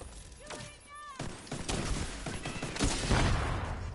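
Gunfire in the video game The Division 2, a few sharp shots and bursts of fire heard over background game sounds, moderately loud.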